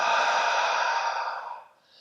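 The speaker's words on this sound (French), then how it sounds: "l'inspire se fait toujours par le nez et l'expire par la bouche en relâchant bien la mâchoire inférieure" A long, steady exhale through the mouth during qigong breathing practice, a breathy whoosh that fades out near the end.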